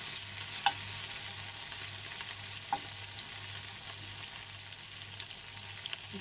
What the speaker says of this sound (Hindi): इसको अच्छे से टर्न कर करके इसको फ्राई करना है।